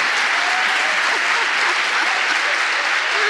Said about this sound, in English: I was expecting you to clap for yourselves